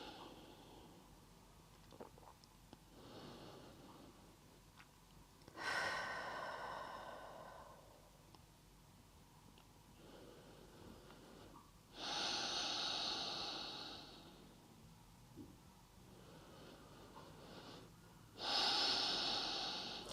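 Slow, deep breaths during a held yoga lizard pose, each long exhale rushing out softly at intervals of several seconds in a quiet room.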